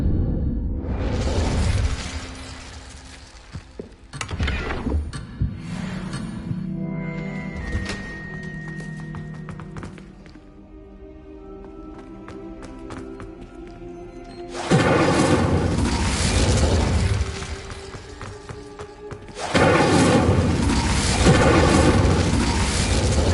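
Fire spells and magical blasts in Hogwarts Legacy, loud crackling bursts and booming whooshes coming in waves, with quieter shimmering stretches between the heavy bursts.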